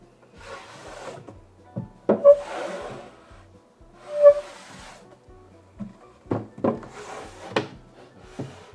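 Homemade wooden drawers slid into a cabinet to test the fit, giving repeated scraping wood-on-wood slides and several sharp knocks and thumps close by, with no talking.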